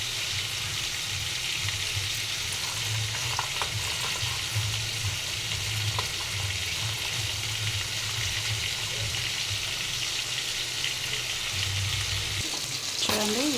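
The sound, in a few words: chicken pieces frying in oil with chicken masala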